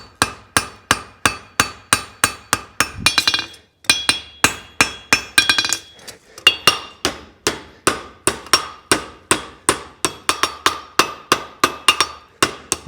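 Hammer blows forging a spavin horseshoe, struck in a steady, ringing rhythm of about thirty sharp metallic strikes, with two brief pauses, close and loud.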